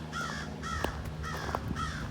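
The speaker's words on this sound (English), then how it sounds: "Yeah, that crow likes them." A crow caws repeatedly in pairs of harsh calls beside a town ball park along a lakeside hiking loop in Carver, Minnesota, fairly close and clear over steady low outdoor rumble.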